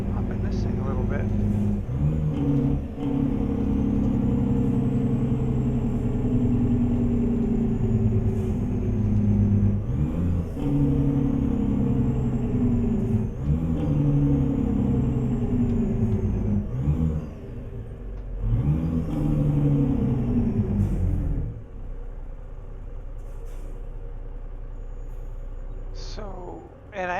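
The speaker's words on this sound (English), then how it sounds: "I am running the Z-Mods Kenworth sound effects" A Kenworth 521 Needle Nose truck in American Truck Simulator, running modded Kenworth engine sounds, revs loud and close through repeated gear changes with rising and falling pitch. A voice speaks over it at times before the engine drops to a low idle.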